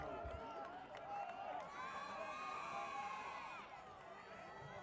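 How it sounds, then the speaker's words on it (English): Organized Haverford School fans cheer and shout together in the stands at a 2013 high school lacrosse playoff game against Episcopal, a steady loud crowd roar with rising chanting tones that holds throughout. "the Haverford crowd is very, very organized over there with their cheers"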